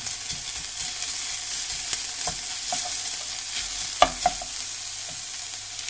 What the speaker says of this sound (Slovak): Nakrájanú cibulku pražíme na oleji v hrnci približne 2-3 minúty